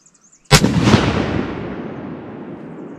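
A single loud 6.5 Creedmoor rifle shot firing a Norma 156-grain Oryx bullet outdoors, with a sharp crack followed by a long rolling echo that fades over a couple of seconds.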